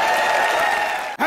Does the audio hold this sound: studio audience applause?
yes